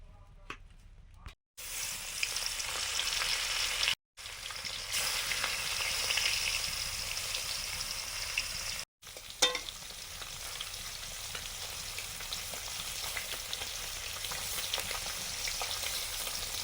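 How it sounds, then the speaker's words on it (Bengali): Folui fish sizzling steadily in hot oil in a pan, a continuous bright crackling fry with a few brief gaps, close and fairly loud, with no talk over it. "মাছগুলো ভাজা হয়ে গেছে"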